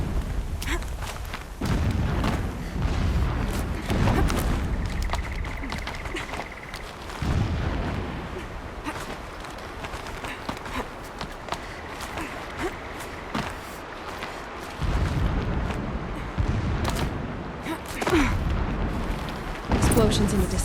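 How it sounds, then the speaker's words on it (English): Distant explosions rumble in the game Horizon Zero Dawn, low booming bursts recurring across the stretch under a steady ambient bed, with a voice speaking over parts of it. "Explosions in the distance."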